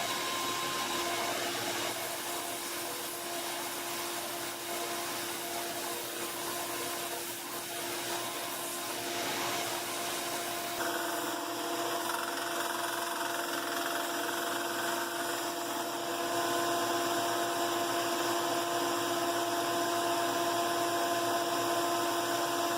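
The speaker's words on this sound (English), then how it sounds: "I'm gonna go over here to my sander." A slack-belt sander shapes a briar tobacco pipe with a steady, close whirring grind. The tone shifts partway through as the wood is pressed and turned against the belt, and no one speaks.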